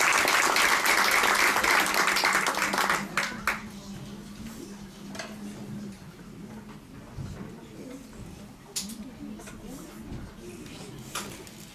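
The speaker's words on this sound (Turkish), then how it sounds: "Alkışlarınızla." An audience at a school children's day show claps and applauds after a violin solo, a dense burst of clapping for about three seconds that then fades to scattered claps and crowd murmur.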